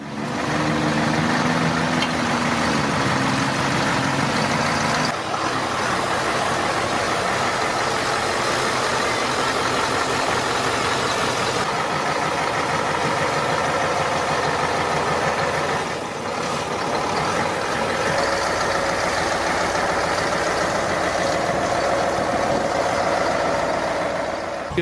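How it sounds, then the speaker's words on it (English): A German Army military transport truck runs its powerful engine in a steady, loud rumble, with a brief shift in tone partway through and occasional hissing bursts. "These are extremely powerful military transport vehicles."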